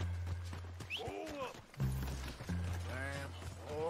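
Horse hooves thud and clop in the video game Red Dead Redemption alongside a horse's snorts and whinny-like calls, with people talking over the top.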